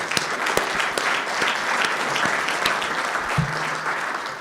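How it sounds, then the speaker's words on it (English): A room full of people applauding a panel at the close of a session on electric vehicles in Nebraska, a steady wash of clapping that holds level throughout, with a few sharper individual claps standing out. "Let's give the panel a round of applause."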